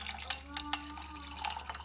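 Coconut juice being poured into a cup of ice, with soft liquid splashes and the light clink of ice against the cup in short bursts, fairly close and quiet.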